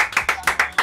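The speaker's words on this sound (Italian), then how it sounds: "un applauso a chi si sta facendo i cecchetti!" Close, loud hand clapping with about six sharp claps in an even, quick rhythm over less than a second, nothing else audible.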